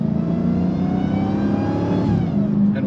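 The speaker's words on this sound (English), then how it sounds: "and way more supercharged noise, which I think is awesome for this platform" A supercharged Dodge Hellcat with its exhaust valves closed revs nearby, a loud engine drone with a rising and falling high-pitched supercharger whine riding on top.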